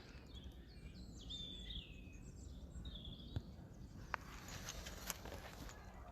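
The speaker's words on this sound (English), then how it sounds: "Can hear the birds singing in the background." Birds call and sing faintly in the background outdoors at Norwood Lake's north entrance during a tree planting, with soft chirps and warbles drifting over a low steady rumble and a few sharp knocks.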